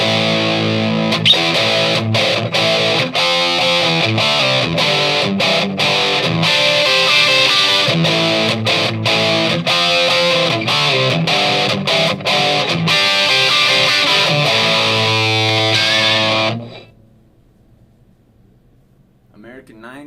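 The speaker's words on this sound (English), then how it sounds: "This is a Marshall JCM." Loud distorted electric guitar through a Fender Mustang II amp's Marshall JCM model, playing heavy rhythmic chords with crisp stops, crunchy amp tone, ending in a ringing chord that fades out.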